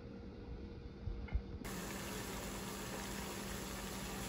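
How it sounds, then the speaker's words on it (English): A pot of water boils for cooking penne pasta, giving a steady bubbling hiss that rises to a constant broadband roar, with a couple of soft knocks early on. "The water is boiling."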